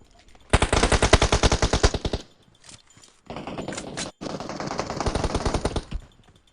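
Rapid automatic gunfire in the PUBG Mobile battle royale game, loud sustained bursts of rattling shots with brief gaps between them, close and dominant with no speech over it.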